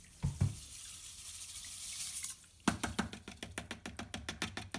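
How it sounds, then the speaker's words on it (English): Sodium hydroxide lye granules are tipped into a gallon of cold water, a soft hiss and splash followed by a quick series of rhythmic taps and knocks against the container, close and quiet. "I'm going to add now my 127 grams of sodium hydroxide to 1 gallon of cold water."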